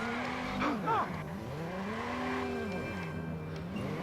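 Car engine in the open-world game Watch Dogs straining uphill, a revving, wavering engine tone rising and falling throughout, with faint tire noise and a quiet voice underneath.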